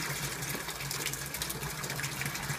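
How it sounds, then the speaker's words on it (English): A water pump line sputters and spits air as water is drawn from two basement storage tanks, a quiet, irregular gurgling hiss with small bursts, heard alone without speech. "That spitting is the air in the line."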